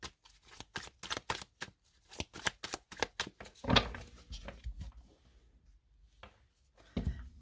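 Tarot deck being cut and shuffled up close, a quiet run of rapid riffling flutters and soft card slaps, with a pause before a few final taps.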